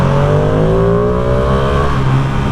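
A stock-exhaust 2020 Ducati Panigale V2 motorcycle revs inside a road tunnel, its engine note loud and close with a steady rising drone and reverberant roar throughout.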